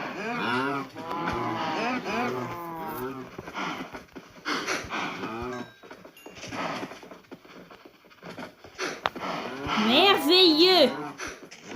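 Cows in the Minecraft video game moo repeatedly in drawn-out, wavering calls, several overlapping, with a person talking in between and over them.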